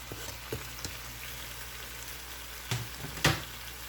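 Chicken liver frying with vegetables in a pan, a soft continuous sizzle with a few sharp clicks and taps of utensils near the end, no voices.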